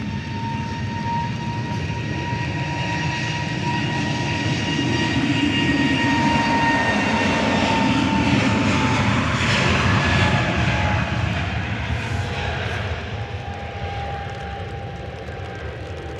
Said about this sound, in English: EasyJet to Amsterdam with flight 2161.